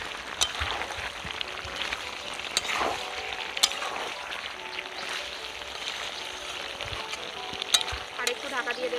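Desi chicken curry stirred in a pan with no oil, a steady close sizzle with scattered scraping clicks from the spoon, continuous and moderately quiet.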